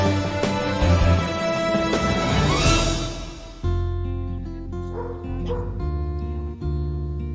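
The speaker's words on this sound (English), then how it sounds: "cão d'água português. In other words, the Portuguese water dog" A Portuguese water dog, an old fishermen's breed, barks and yips in short bursts, close and fairly loud, with whimpering tones and a rumbling background underneath; no talking.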